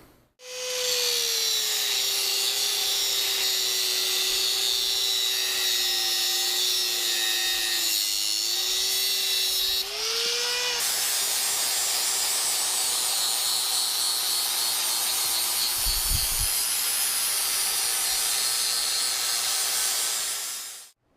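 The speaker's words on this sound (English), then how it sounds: "Now I need to take the heavy walled pipe and cut it off" Heavy-walled steel pipe being cut to make a Caterpillar D2/D4/D6 fuel injector socket tool. A continuous loud machine cutting whine with a steady tone that shifts pitch midway runs alone for about twenty seconds.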